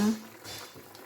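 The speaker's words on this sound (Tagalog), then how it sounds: "kumulo na siya" A pot of adobo chicken feet with soy sauce and pepper comes to a boil, giving a faint, brief bubbling and simmering under a moment of speech.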